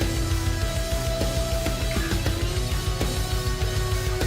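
A keyboard synth lead patch in a progressive metal style sings sustained, gliding notes over a dense, loud full-band mix with rapid, steady double-kick drumming underneath, continuous throughout with no voices.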